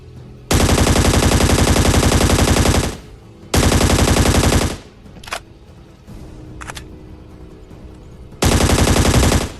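Assault rifle fire in the ScarFall battle royale game on the Mumbai map: loud, rapid automatic bursts, two long ones at the start, a few short stuttering bursts in the middle, then another long burst at the end.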